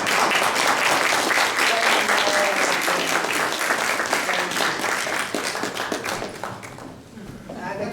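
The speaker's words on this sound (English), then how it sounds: "Give a round of applause." An audience at a talk on James Geddes and the Erie Canal breaks into sustained applause, dense clapping that holds loud and steady for several seconds and then thins out and fades toward the end.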